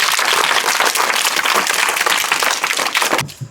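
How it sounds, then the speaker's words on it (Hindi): A school audience at a quiz event bursts into loud, dense applause from many hands, holding strong for about three seconds before cutting off abruptly. "इनके लिए आप जोरदार तालियां बजाएं"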